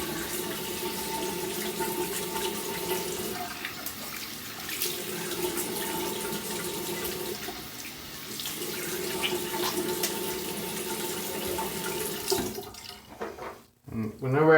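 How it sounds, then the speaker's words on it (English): Running tap water splashes steadily into a sink as a Muhle R41 safety razor is rinsed, close and continuous for most of the time before clunks and a sudden stop near the end. "I'm going to rinse this real fast."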